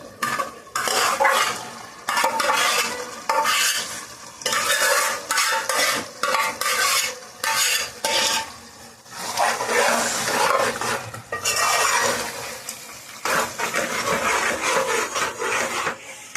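A spoon stirs gongura leaves into a pot of beef curry, giving loud, close, rhythmic scraping and rubbing bursts with brief pauses between strokes.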